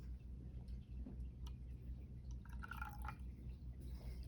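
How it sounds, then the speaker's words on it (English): A chemistry solution is poured into another, giving faint, close drips and a short liquid trickle over a low steady hum, with no voices. "Adding solution B."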